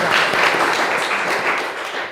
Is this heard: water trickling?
no